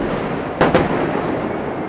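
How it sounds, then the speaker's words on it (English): Israeli warplanes over Lebanon during strikes on Hezbollah infrastructure: two brief booming bursts land close together, rising out of a steady, noisy background roar. "the menacing sonic booms of Israeli warplanes carrying out attacks on Hezbollah infrastructure"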